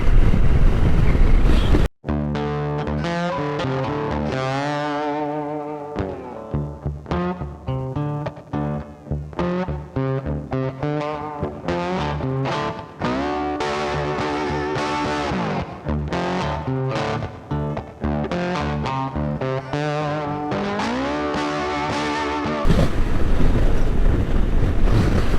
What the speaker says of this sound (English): Heavy wind, and it's also crosswind as well, so I have to reduce my speed.